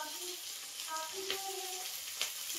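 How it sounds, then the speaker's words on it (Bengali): Chopped carrots, beans and capsicum sizzle in hot oil in a home kitchen, making a steady crackling fry with faint stirring scrapes and a few soft clinks, with muted voices underneath. "এবার এই যে কেটে রাখা সবজিগুলো সব দিয়ে দেওয়া হচ্ছে। গাজর, বিনস আর ক্যাপসিকাম"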